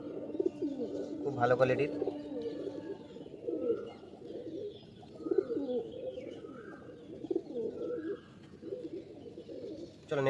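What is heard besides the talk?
pigeons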